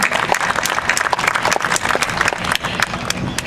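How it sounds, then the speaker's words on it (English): Audience applause for city council members at a State of the City address fills the room, a dense, loud, steady patter of many hands clapping without letup. "let's give them one more time a round of applause because they certainly deserve it"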